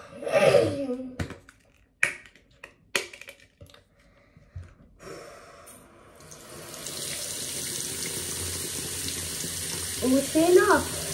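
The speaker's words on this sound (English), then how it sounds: "I'm gonna fill it up with water" Running tap water pours steadily into a container, a continuous hiss after a few clicks and taps, with faint handling noises near the end.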